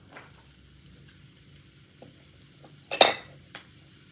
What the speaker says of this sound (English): And then we're gonna add the onions now.